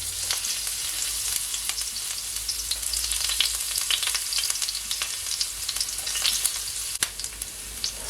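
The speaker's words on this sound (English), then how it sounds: "I'm gonna firstly add my garlic, and I'm just gonna allow my garlic to saute for at least 15 seconds" Garlic sautés in heated oil in a pan for Jamaican fried cabbage, producing a steady close sizzle peppered with crisp pops and a sharp tap near the end; no talking.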